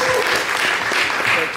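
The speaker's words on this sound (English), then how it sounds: "please give a big applause for the team for keeping up the fort" Dense, steady audience clapping for a team at a 1 Million Cups entrepreneur gathering in Brownsville, Texas, filling the whole short stretch at an even volume with no pauses.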